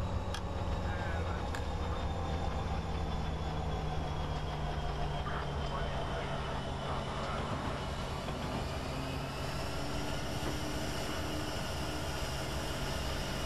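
A train in Train Simulator 2015 starts to move, giving a continuous rumbling engine drone with rising tonal whines layered over it, steady and fairly loud throughout.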